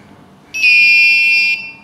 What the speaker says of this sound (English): When it comes in range of the ultrasonic sensor, it starts beeping.